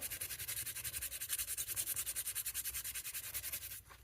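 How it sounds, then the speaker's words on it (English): A vintage Hammer Brand scout knife is rubbed with a cloth and cleaning solution in fast, even back-and-forth strokes, about five per second, close and steady, stopping abruptly at the end. "I'm just going to sort of rub back and forth like that."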